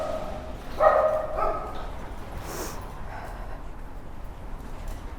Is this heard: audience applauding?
no